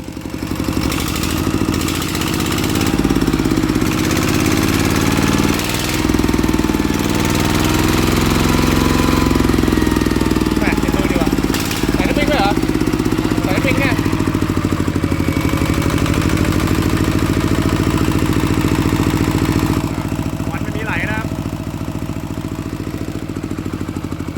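A refitted engine drives a water pump under load, giving a loud, steady, rough rumbling drone with knocking pulses and slight swells in revs throughout.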